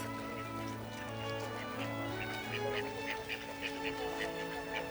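Ducks quacking at a pond in Madrid's park, with soft, repeated quacks over a steady, dense background of ambient noise. The quacks sound moderately distant and mix into the hum.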